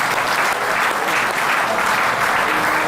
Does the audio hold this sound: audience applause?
yes